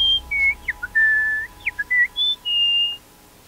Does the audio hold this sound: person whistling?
yes